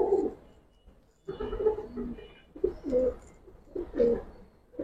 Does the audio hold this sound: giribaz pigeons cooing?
yes